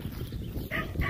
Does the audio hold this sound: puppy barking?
yes